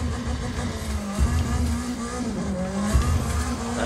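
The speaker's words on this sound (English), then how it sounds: "Just throw the car into a corner. Hard on the brakes. Whip it around." Race car in a sim racing video game played on a wheel and pedal rig, thrown into corners under hard braking: a steady engine whine with repeated tire squeals and skids, fairly loud and alone.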